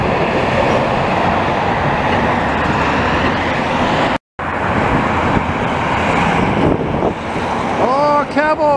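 A cab-over semi truck on a Montreal road roars past close by, a loud, steady engine and tire rumble with wind noise, fading near the end as a faint whistle-like tone sweeps in.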